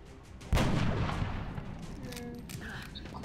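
Gunfire from the video game X-Com: Enemy Unknown, a sudden loud shot followed by a sustained rumbling burst that stays strong and slowly tails off under faint game sounds.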